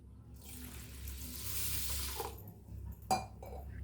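Water pours from above onto about one and a half cups of rice in a cooking pan, a steady splashing rush lasting a couple of seconds, followed by a single bright clink of a vessel.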